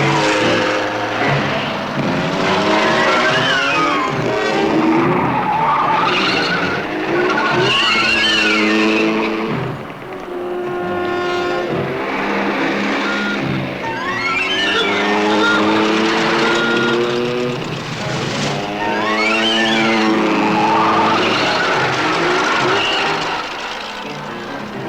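A vehicle speeds along with long, wavering tire squeals and skids over a roaring engine, loud and sustained throughout with repeated rising and falling screeches.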